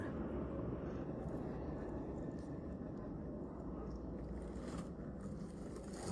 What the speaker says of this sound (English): Being followed by a freaking helicopter.